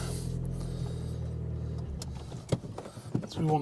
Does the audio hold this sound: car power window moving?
yes